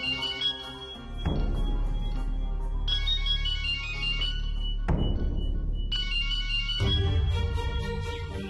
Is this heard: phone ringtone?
yes